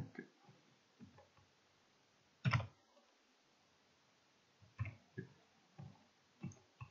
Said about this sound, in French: je vais écrire selon les caractères qu'il y a dans mon clavier